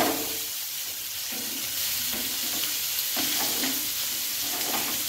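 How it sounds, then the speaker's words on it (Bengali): Chicken fries with spice paste in a pan, giving a steady, close, loud sizzle and hiss throughout, broken by occasional scraping stir strokes. "চিকেনটাও কিন্তু প্রায় ফ্রাই হওয়াটা কমপ্লিট"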